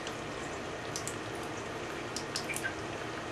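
Filtered water from a BulkReefSupply 5-stage Spartan Plus reverse osmosis system runs out fast in a steady, hissing stream, with faint drip-like splashes on top.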